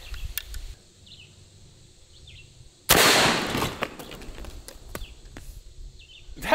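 A big bore .58 caliber Element MAX air rifle fires into peanut butter jars, one sudden loud crack followed by a fading splattering rush, set against a quiet outdoor background with faint birds chirping.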